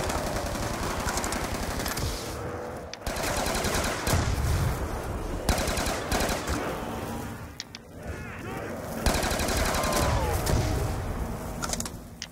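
Rapid automatic gunfire rattles in dense, loud bursts while zombies are shot in Black Ops 2, with short pauses between volleys and faint voices in the background.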